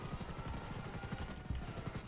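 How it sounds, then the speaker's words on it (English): Helicopter in a GTA video game, a steady rapid rotor chop with a high whine, continuous and fairly close, with no talk over it. "Also, I'm just gonna shoot the helicopter."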